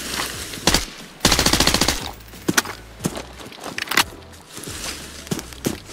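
Gunfire in the video game Arena Breakout Infinite: sharp single shots and one rapid automatic burst, loud and close, mixed with scattered footsteps and clattering impacts, no voices.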